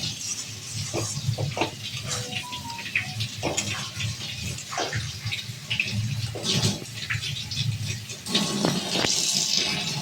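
Water runs continuously while raw chicken is washed in a home kitchen, with splashing, handling clatter and a few brief utensil clinks throughout.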